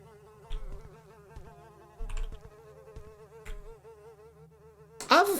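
A swarm of bees buzzes in a horror video game set in an abandoned house, a continuous wavering hum with a few soft thuds and a sharp loud burst at the very end.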